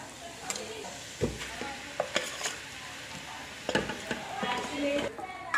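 Marinated chicken drops into a pan of fried spices for a Kerala-style curry, setting off a sizzle under repeated scraping and clattering stirs with a few sharp knocks, close and moderately loud.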